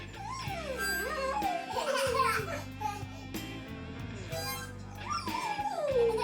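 A dog howls and whimpers in long, wavering pitch slides that seem to sing along with background music, loud and close throughout.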